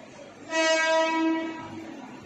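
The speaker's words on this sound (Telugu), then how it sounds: "ప్రమాదం జరగగానే వేగంగా వెళ్తున్న రైలు ఆగింది" A train horn blares loud and close for about a second over the steady rumble of a fast-moving train on the railway, then fades back into the running noise.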